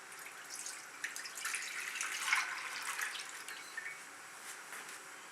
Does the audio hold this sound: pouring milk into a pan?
yes